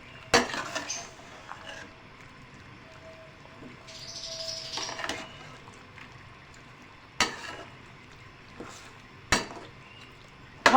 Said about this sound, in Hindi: अब हम ये सब डाल के अच्छे से इसको मिक्स करेंगे।